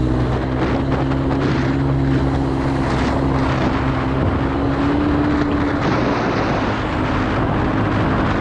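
Honda TRX 125 ATV engine running steadily in third gear, a continuous loud, close buzzing drone with a faint pitch shift partway through.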